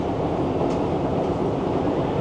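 A London Underground train rumbles loudly and steadily nearby, a dense low roar of wheels and carriages with faint rattling and no voices.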